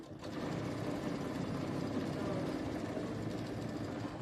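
A sewing machine stitching quilt blocks and trimming its thread runs with a steady, close mechanical hum and rapid needle chatter that holds evenly throughout.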